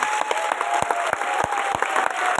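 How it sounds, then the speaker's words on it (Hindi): An audience at a live income-seminar event applauds continuously, a dense wash of close, steady clapping with sharper individual claps standing out and a faint tone running underneath. "एक बार दिल से जोरदार ताली"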